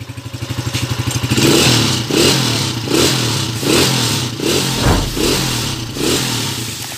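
Motorcycle engine running smoothly after a stainless timing gear repair, idling close and loud with a steady pulsing beat and repeated gentle throttle swells.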